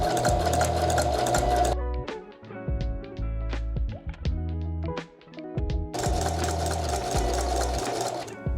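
A sewing machine stitches a test seam in two loud, fast-whirring bursts, with a quieter stretch of clicks and mechanical ticking between them. No talking.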